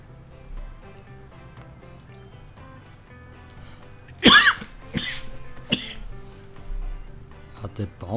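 Several sharp coughs from a person, a loud close burst followed by a few shorter ones, heard over a soft steady background hum with faint game sounds.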